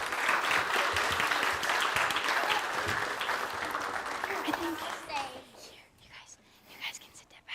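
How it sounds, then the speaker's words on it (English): A church congregation applauds during a Sunday service, a dense, loud clapping that fills the first five seconds, then fades into scattered claps and murmuring voices. "I want to say thank you and a round of applause"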